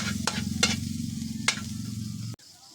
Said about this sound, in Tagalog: Gisa na tayo natin yung sibuyas